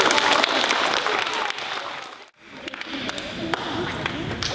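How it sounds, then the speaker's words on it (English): A crowd at a school recognition day for fifth graders applauds students, with dense, sustained clapping that dips briefly midway and then resumes at full strength, moderately loud and somewhat distant. "And recognize those students with a round of applause."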